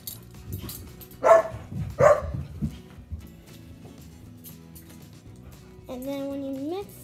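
A pet dog gives two sharp barks in quick succession at close range indoors. Softer thumps and shuffling follow, then a brief higher whine near the end.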